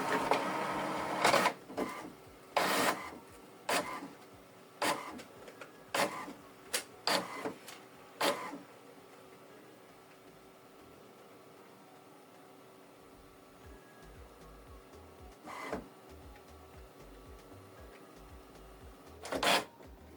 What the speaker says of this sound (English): Then select this button to copy. We'll show you start copying, and it's copying.